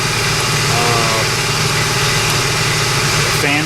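A repaired Infiniti QX56 V8 runs at a steady idle, loud and close, with a continuous even drone and faint whine on top.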